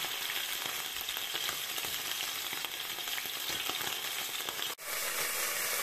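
Beef sirloin sears in a frying pan with a loud, constant sizzle and crackle, a steady frying hiss broken only by one brief dip near the end.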